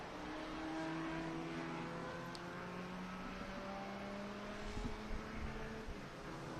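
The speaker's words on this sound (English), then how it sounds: "Coming out of the final corner, the last checkered flag of a great weekend here at Barber Motorsports Park goes to Chercilla" A race car at Barber Motorsports Park crosses the finish line out of the final corner, its engine a steady, fairly loud drone with a slight rise and fall and no talk over it.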